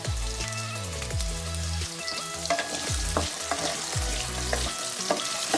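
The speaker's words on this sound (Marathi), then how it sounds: "थोडासा कलर बदलेपर्यंत आपण फ्राय करूया" Mixed vegetables with potato sizzle and crackle in a hot pan for a homemade Marathi bhaji, with steady frying noise and repeated scraping stir strokes, no talking.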